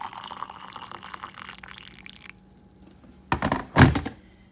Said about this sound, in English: rose hips in there, and then just add some boiling water.